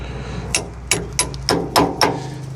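A hammer strikes a steel punch to drive a pin out of an Ifor Williams Knott trailer hitch damper, giving six sharp metallic taps at an uneven, quickening pace, close and clear with no talking.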